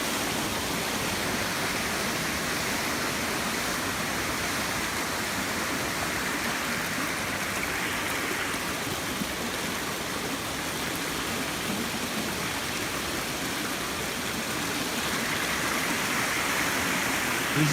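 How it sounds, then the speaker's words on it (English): A steady, full roar of water falling over rocks at a waterfall, broadband and continuous throughout, heard up close with no voices over it. "We're gonna look up at the waterfall"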